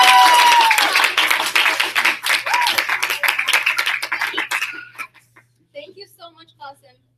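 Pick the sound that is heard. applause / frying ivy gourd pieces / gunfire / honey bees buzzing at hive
applause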